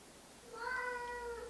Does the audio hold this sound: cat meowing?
yes